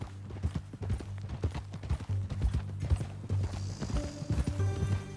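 A horse's hooves clip-clop in a steady walking rhythm in Red Dead Redemption 2, close and distinct over a low ambient drone, with soft tonal game sounds rising near the end.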